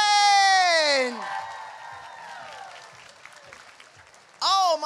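Audience applause for contestants at a runway costume contest at GalaxyCon Raleigh 2022: a loud, sliding whoop or cheer opens, then steady, moderately loud clapping and crowd noise fill the middle before another sharp whoop bursts in at the end.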